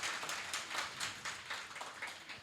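An audience claps together at a Hindi poetry gathering, a steady patter of many hands with a loose rhythm, moderately close and continuing throughout without any talking.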